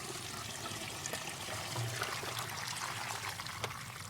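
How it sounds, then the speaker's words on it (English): Water poured from a full 5-gallon bucket onto the soil beside a tree, a steady, faint gushing trickle that runs without pause, with no one talking. "we take a full 5-gallon bucket and pour it in so it'll slowly drain into the soil"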